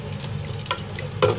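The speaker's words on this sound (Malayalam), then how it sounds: "അതിലേക്ക് റെഡിയാക്കി വെച്ചിരിക്കുന്ന പട്ടാണി ചേർത്ത് ഇളക്കി ഒരു 5 മിനിറ്റ് ഈ പട്ടാണി ഒന്ന് വേവാൻ അനുവദിക്കുക" Green peas being stirred into a simmering masala gravy for paneer butter masala, with steady scraping and bubbling sounds and a couple of louder stirring strokes near the end, no talking.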